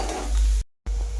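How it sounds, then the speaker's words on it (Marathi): Finely chopped onion frying in a hot pan gives a loud, dense, close sizzle that cuts out briefly to silence, then resumes for a moment. "आता मी याच्यामध्ये बारीक कापलेला कांदा ऍड करणार आहे।"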